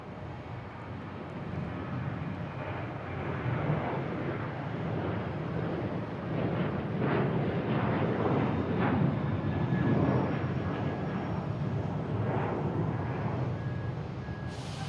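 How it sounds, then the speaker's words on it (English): Jet airliners at Boston Logan International Airport, a JetBlue A321 or a Southwest jet, make a broad, loud engine roar that swells toward the middle and holds steady with no talking. "We have a JetBlue coming from LAX, an A321. We have a Southwest heading to Midway."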